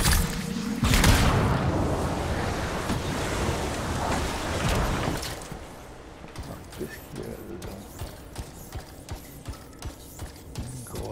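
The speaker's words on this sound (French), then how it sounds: "Ah, regardez, une petite cascade." A small waterfall in the video game Anthem gives off a steady broadband rush, loud for the first five seconds, then dropping to a softer hiss broken by light clicks and taps, with someone talking over it.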